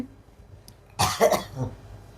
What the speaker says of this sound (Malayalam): ചുമയാന്നോ